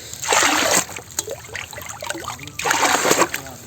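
Lime water poured into a village fish pond splashes loudly in two strong bursts, with gentler trickling and sloshing between them, close by and outdoors.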